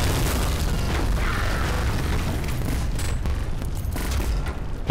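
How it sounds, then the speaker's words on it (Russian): Airstrike explosions in a tank battle video game, a loud continuous wall of booming blasts and rumbling bursts that fills the whole stretch with no pause. "Нет, авиаудар."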